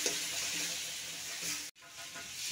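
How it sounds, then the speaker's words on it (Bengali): A dal mixture with spices and a little water sautés in a pan, giving a steady soft sizzle and hiss with faint stirring scrapes. There is a brief drop to near silence before the frying resumes. "ভালো করে এটা কষিয়ে নেব। অল্প পরিমাণ জল দিয়ে দেব কষানোর জন্য।"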